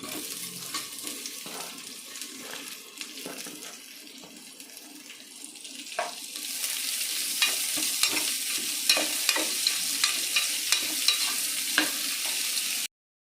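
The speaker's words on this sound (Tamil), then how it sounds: "வெங்காயம் வதங்கட்டும்" Chopped onions cook in groundnut oil in a pan for chicken biryani, a continuous close sizzle that grows louder partway through, broken by repeated scraping stirs and clinks of the spoon.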